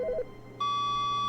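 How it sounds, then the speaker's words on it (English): A telephone ringing in The Stanley Parable: Ultra Deluxe, heard as a short burst of electronic beeps followed by a long, steady, high electronic tone held at moderate loudness. "Phone's ringing."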